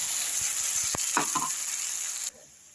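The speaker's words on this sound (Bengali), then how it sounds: "এখন আমি এই মশলাটা ওই তেলের ভেতরে দিয়ে দেবো" Spice paste dropped into hot oil for a bottle gourd and poppy seed dish, a few quick knocks and a crackling burst of sizzle that fades, then cuts to near silence.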